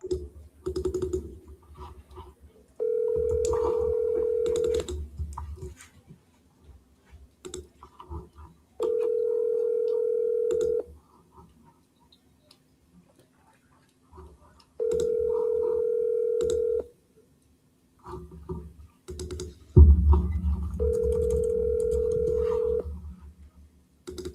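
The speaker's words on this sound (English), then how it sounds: "You have reached the phone of Wayne Klein." A telephone call being placed: soft keypad taps, then a steady ring-back tone repeating in long two-second bursts with silent gaps, four cycles in all, with faint background clicks and a thump near the last ring.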